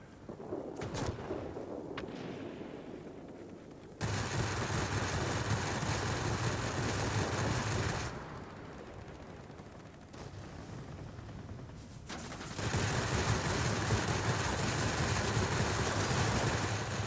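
Aircraft cannons on an XF-36F fighter in a flight combat video game fire in two long, loud, sustained bursts of dense rapid shots, with a quieter engine drone filling the pauses between them.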